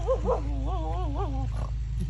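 A dog near a drying cornfield gives a drawn-out, wavering whining howl for over a second, heard close above a steady low hum.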